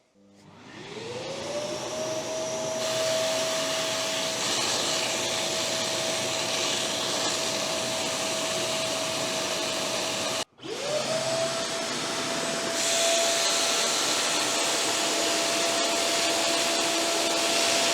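A Kranzle wet/dry vacuum cleaner runs at full suction with a steady high motor whine, cutting out briefly partway through before spinning straight back up and droning on alone.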